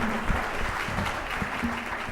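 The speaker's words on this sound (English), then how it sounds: "Give them a round of applause." Audience at a Y volunteer recognition dinner applauding young Y staff award presenters, a dense steady patter of many hands under a faint voice near the start.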